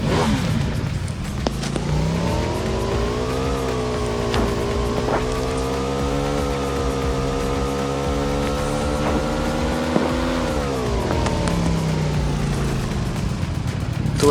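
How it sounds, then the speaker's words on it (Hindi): A motorbike in a battle royale video game drives continuously, its steady engine drone rising and settling in pitch as it speeds along, loud and close with no talking. "बाइक ली और निकल गए ड्रॉप लूटने"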